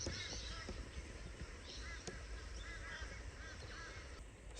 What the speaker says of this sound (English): There's crows all around me here.